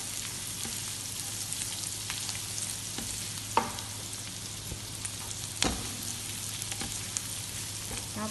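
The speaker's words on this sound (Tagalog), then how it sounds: "Ayan na yung garlic at saka onion. I-saute mo lang yan ng mga 2 minutes." Garlic and onion sauté in a pan with a steady, moderate sizzle, punctuated by a few sharp taps and scrapes from stirring.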